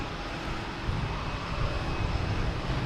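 A JetBlue Airbus A320 takes off at Boston Logan Airport, its jet engines giving a steady distant roar that swells slightly, heard outdoors without talk.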